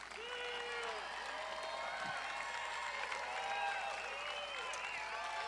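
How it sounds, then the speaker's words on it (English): Crowd applause and cheering at a campaign rally in Canfield, continuous clapping from a large gathering with scattered shouts and voices mixed in, steady and moderately distant throughout. "You deserve this applause and then some."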